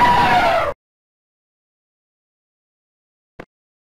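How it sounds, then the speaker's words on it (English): An elephant trumpets once, a loud, brassy blast lasting under a second, followed by silence and a faint click. "Elephant."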